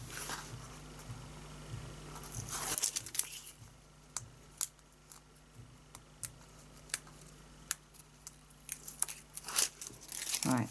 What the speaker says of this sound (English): And then we're going to start peeling it off.